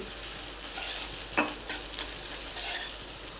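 Softened onion sautéing in a pan while okra bhaji is cooked, with a steady close sizzle and a few sharp utensil scrapes against the pan.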